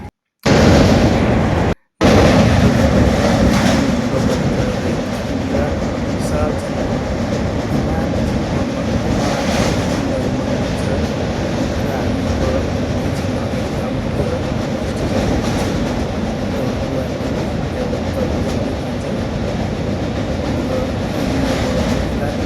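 Inside a moving train in Assam, a loud continuous rumble of wheels and carriage with faint rhythmic clatter sustained throughout, after two brief dropouts near the start.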